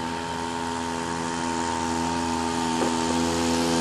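A scooter's engine drones steadily at high speed, a loud sustained motor hum with a constant pitch and no voices over it.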